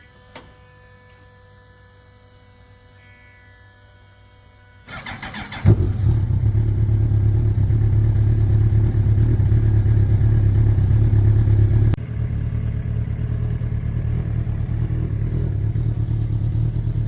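Mod lite race car fitted with a 2006 Suzuki GSXR 1000 engine, heard after a quiet hum as the motor cranks and fires, then idles with a loud, steady, close rumble that settles slightly lower near the end.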